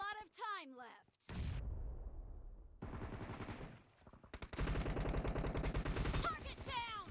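Bursts of rapid automatic gunfire in a team-based shooter video game, with sharp repeated shots crackling in clusters, interleaved with game sound effects and voice callouts.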